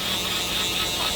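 Electric shaver buzzing loudly and steadily up close during a military skin fade haircut, a constant dense hum with no talking.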